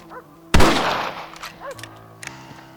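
Rifle shot in a Red Dead Redemption cutscene, a single loud, close crack followed by a decaying echo, with soft background ambience and faint voices after it.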